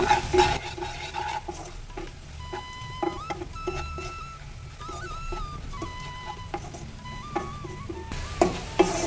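Chilli powder, garam masala and salt stir-fried in oil for tomato rice, with a steady soft sizzle and occasional scrapes of a spoon in the pan. Background tones play throughout.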